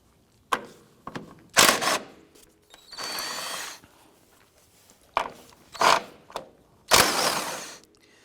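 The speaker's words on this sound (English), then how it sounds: "Using our 17mm deep socket," A ratchet with a 17mm deep socket works the strut tower nuts on an Acura TL, sounding as short bursts of sharp clicking and ratcheting separated by pauses, close and fairly loud.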